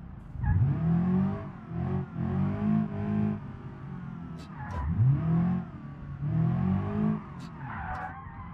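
A car circles a city block in the BeamNG driving game, its engine revving up and down in repeated surges, with tires squealing and skidding through the turns. No one speaks.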